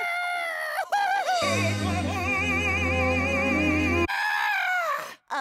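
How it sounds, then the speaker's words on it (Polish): A rooster crows in a cartoon, a long, loud, wavering cock-a-doodle-doo held for a couple of seconds over a short musical backing, with bursts of brighter cartoon sound before and after. "Będzie Maniuś kukurykał?"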